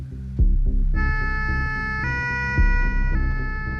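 Ambulance siren sounding in an emergency run toward a medieval fortress, loud and close, a continuous wailing tone that steps between pitches over a rumbling engine.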